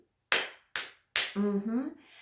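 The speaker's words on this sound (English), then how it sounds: "we're going to have two little children go clap, clap, clap" Children clapping along to a story song, three sharp separate claps in even rhythm, followed by a short sung or spoken voice.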